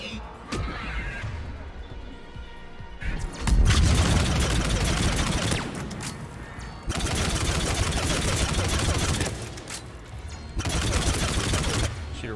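Sustained bursts of automatic gunfire in the video game Mass Effect 3, rattling rapid shots in several long volleys separated by short pauses, with faint talk in between.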